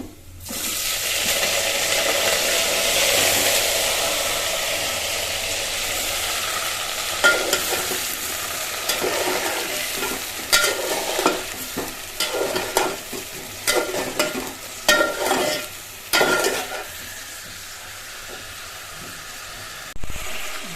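A tempering sizzles in a pan for a brinjal gojju: an even, close frying hiss at first, then sharper bursts of sizzle and stirring clatter come and go in uneven pulses, with no voices.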